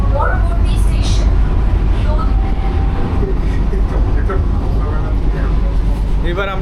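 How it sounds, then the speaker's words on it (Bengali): A Ranaghat–Sealdah AC local train runs along the track just after leaving a station, a steady loud rumble and rattle heard from inside the coach, with faint squeaks and clatter riding on top. "আর স্টেশনটার থেকে এই যে ট্রেনটা ছেড়ে দিয়েছে"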